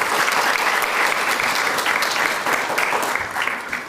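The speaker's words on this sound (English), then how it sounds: "if I get a round of applause" Dense applause from an audience at a paramedic cording ceremony, a steady wash of many hands clapping that holds loud throughout and tapers slightly at the end.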